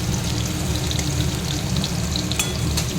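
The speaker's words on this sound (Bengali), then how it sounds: "পটল টটল ভেজে ফিরে আসছি।" Pointed gourd (potol) fries in a pan, a steady close sizzle and crackle with faint stirring scrapes, no voices.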